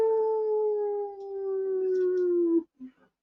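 A dog gives one long, loud, drawn-out howl close by that slowly falls in pitch, followed by a short yelp and a brief spoken exclamation.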